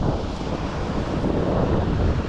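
Strong wind buffeting at a sea shore fishing spot, a loud continuous roar with surf underneath, no voices.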